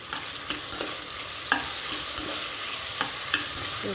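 Onion and tomato stir-fry in a pan for upma, a steady close sizzle punctuated by regular clinks and scrapes of a spatula stirring, with no voices.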